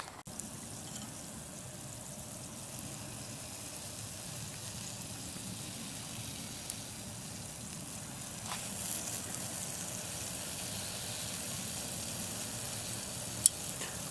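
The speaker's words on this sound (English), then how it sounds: "Deep fat frying a flyback." A flyback transformer submerged in hot melted wax, with moisture boiling off as a continuous fine sizzling and bubbling like deep frying, steady and moderately quiet with a few tiny pops.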